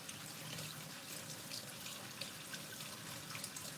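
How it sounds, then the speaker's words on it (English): Potatoes scrubbed under a running kitchen tap, a soft continuous hiss of flowing water with faint splashes and trickles, fairly quiet and steady, no talking. "I'm just going to wash these potatoes really good because I'm leaving the skin on them"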